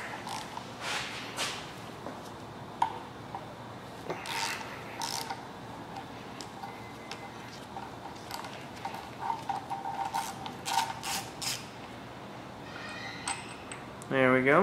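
A 5/8 socket wrench loosens the oil pump bolt on a Chevrolet 454 big-block engine, giving repeated close ratcheting clicks and metallic rubbing, with a voice cutting in at the very end.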